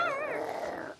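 A person imitates a dog's growl, voicing a short wavering, whining snarl that lasts about a second and fades at the end.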